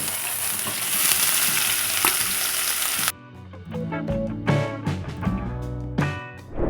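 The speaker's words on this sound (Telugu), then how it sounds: "ఇప్పుడు ఈ పన్నీర్ ముక్కల్ని కొంచెం లైట్ గోల్డెన్ కలర్లో వచ్చేంత వరకు వేయించుకున్నాము" Paneer pieces frying in ghee in a pan give a loud, dense sizzle for about three seconds, then the sizzle cuts off and clinks and scraping of stirring follow, close by and without talk.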